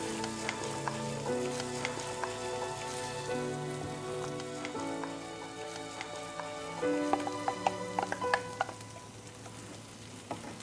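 Food frying in a pan crackles and sizzles while being stirred, with scattered spatula scrapes and taps, all beneath steady background music.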